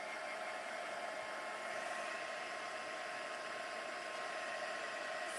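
A heat gun blows steadily during gold leaf gilding, a constant close airy roar with a faint high whine, unbroken and without talk.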